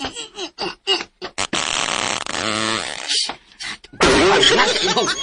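A person farts amid casual chatter in a home, a rough broadband blast mixed with bursts of nearby talking and laughter, loud and close.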